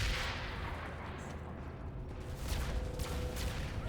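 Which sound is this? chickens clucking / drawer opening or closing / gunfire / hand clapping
gunfire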